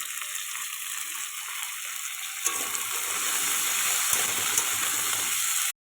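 Potatoes dropped into a hot pan and stirred while making aloo paratha, a steady close sizzle that swells into louder, busier frying halfway through, then cuts off abruptly at the end.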